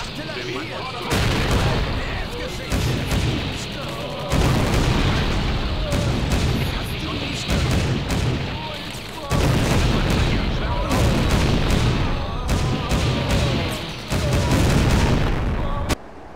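Artillery barrages in the WWII strategy game Blitzkrieg 2, heavy booms and rolling blasts firing repeatedly in loud dense bursts over about sixteen seconds, with game voices speaking over parts of it.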